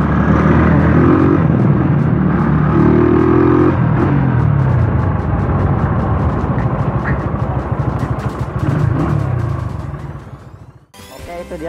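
Honda GL100 motorcycle engine revving while ridden at night, a loud, steady engine drone that climbs and then drops off near the end, with someone talking over it.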